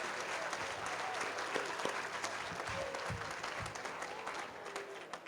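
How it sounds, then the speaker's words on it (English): Dense, steady applause from an audience at an awards dinner held by the AWARE Foundation and Arlington ISD, filling the room for several seconds at an even loudness. "Let's give them a big round of applause."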